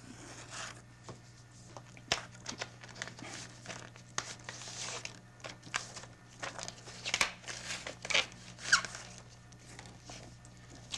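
Thin plastic bag crinkles and rustles at close range as instruction sheets are slid out of it, in irregular bursts of crackle and rubbing with brief pauses, with no talk.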